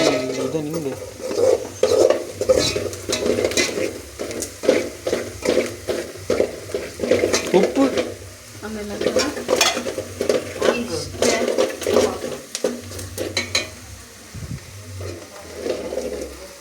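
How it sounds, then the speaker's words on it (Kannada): Turmeric is stirred into egg gravy masala frying in a pan, with repeated clinking spoon strokes against the pan over a soft sizzle, close and fairly loud. "ಸ್ವಲ್ಪ ಅರಿಶಿನ ಅರಿಶಿನ ಅದನ್ನು ಚೆನ್ನಾಗಿ ಮಿಕ್ಸ್ ಮಾಡಿಕೊಳ್ಳಿ"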